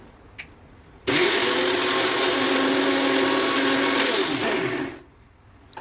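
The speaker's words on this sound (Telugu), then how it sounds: "మిక్సీ జార్లో వేసుకొని అన్నీ ఒకసారి మెత్తగా మిక్సీ పట్టుకొచ్చుకోవాలి" A mixie grinds onions, green chillies and cumin in its jar. The motor kicks in suddenly, whirs loud and steady for about four seconds, then winds down and stops.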